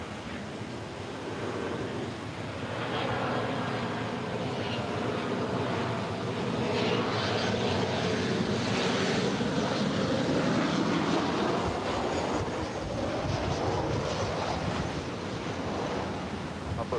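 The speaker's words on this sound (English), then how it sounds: "Our next arrival on 24 rights is Delta Airlines Flight 1008 coming in from Salt Lake City." A Delta Airlines Boeing 737-900ER jet from Salt Lake City arrives on runway 24 right at LAX, a loud, steady broadband roar with a slowly sliding engine whine that holds throughout, with no talking.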